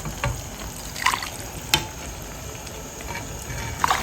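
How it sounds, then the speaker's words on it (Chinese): Broth from braised pork ribs with potatoes and green beans is ladled out of a pot, giving soft liquid sloshes and a few sharp clinks of the ladle against the pot rim, close by. "把里面的汤汁舀出来一点"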